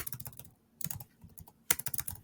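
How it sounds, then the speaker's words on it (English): Fast typing on a computer keyboard, with bursts of close, crisp key clicks separated by short pauses. "I'm typing this out for people who can't hear me."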